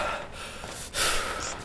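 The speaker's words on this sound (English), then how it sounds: "for some reason your body's still breathing" Heavy in-game breathing from a downed soldier's body in the military shooter Project Reality, on the Qwai River map, with two breathy gasps alone and close, the second louder and harsher.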